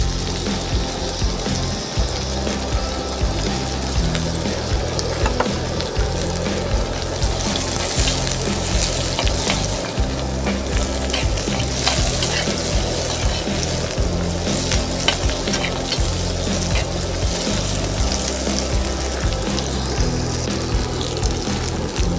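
Small shallots fry with fennel seeds in a pan, sizzling and crackling steadily at close range with occasional stirring scrapes throughout.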